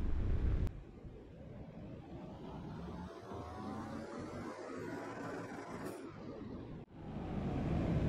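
A car engine runs steadily on a dyno in Car Mechanic Simulator 21, a low droning hum with a rising whine, bracketed by louder bursts at the start and end.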